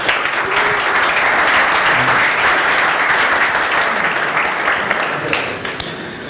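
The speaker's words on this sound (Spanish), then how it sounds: "Fuerte el aplauso." An audience at a programming conference gives a talk's speaker a strong round of applause, a dense, even clapping from many hands lasting several seconds and easing slightly toward the end.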